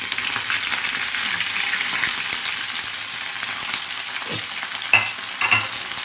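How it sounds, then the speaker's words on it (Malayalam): Cashews, onion, green chilli, ginger, carrot and curry leaves sautéing in a pan, a constant bright sizzle with occasional spoon taps and scrapes of stirring, no talking. "പച്ചമുളക്, ഇഞ്ചി, കറിവേപ്പില, അണ്ടിപ്പരിപ്പ് ഇത് നന്നായിട്ട് ഞാൻ വഴറ്റിയെടുക്കുകയാണ്."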